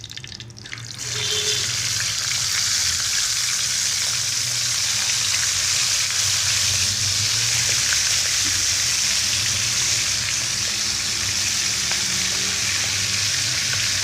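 Chicken wing pieces are dropped into hot oil, setting off a loud, continuous sizzle that starts abruptly after a brief quiet moment and keeps up a dense, crackling hiss close by.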